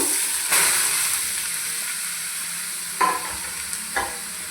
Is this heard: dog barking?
no